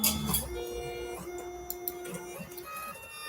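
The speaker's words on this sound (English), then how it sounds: "let's plug the label printer in. Dymo I've got. Bloody love the Dymo 4XL." A Dymo 4XL label printer prints a label, its feed motor whirring in short stepped whines and ticks across a few seconds, close by and with no talking.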